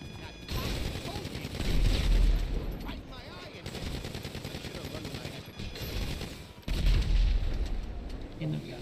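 Gunfire and explosive weapons in the video game GTA V during a heist setup mission, with repeated bursts of shots and heavy booms at close range over continuous game noise.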